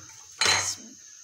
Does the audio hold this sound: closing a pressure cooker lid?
yes